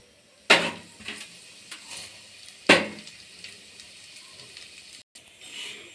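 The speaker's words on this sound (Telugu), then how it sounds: "అదే ప్యాన్లో 2 కప్స్ సేమియా వేసుకోవాలి." Two cups of dry vermicelli are poured into a pan for roasting in a sweet semiya kesari recipe, giving a few sharp rustling, clattering hits over a faint background sizzle.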